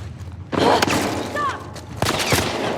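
Gunfire in The Last of Us Part II, several sharp shots cracking out in quick succession at mid-range, with a noisy burst around half a second and two more distinct reports near two seconds, mixed with scuffling and voices.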